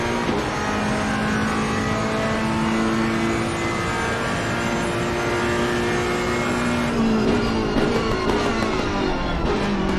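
A Ferrari race car in a PS5 racing game at the Zandvoort circuit, its engine revving high and steady as it climbs through the gears, loud and continuous with pitch shifts and no talk.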